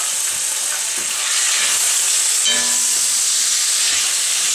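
Drained canned mushroom pieces hit a hot pan and sizzle loudly, a steady bright hiss with occasional soft stirring scrapes, and no voices.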